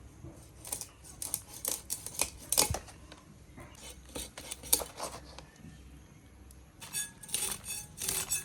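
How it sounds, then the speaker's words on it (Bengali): A whole pomfret (rupchanda) being cut up for home cooking, with irregular crisp snips and knife scrapes and occasional metallic clinks, close and fairly loud, separated by brief pauses. "এখন আমি মাছটা কেটে নিচ্ছি।"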